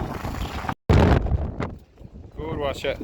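Heavy wind buffets the microphone in loud rumbling gusts in New York, with a brief dropout, while a voice speaks faintly underneath.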